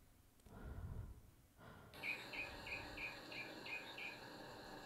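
A northern mockingbird call from a video game: a run of about seven short, evenly spaced chirps after a brief quiet start, moderately loud and alone with no talk.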